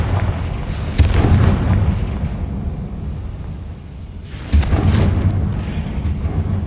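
Spell explosions from the Confringo fire spell in the video game Hogwarts Legacy: two heavy booming blasts about three seconds apart, each with a crackling, rumbling tail, loud and close, with no talking.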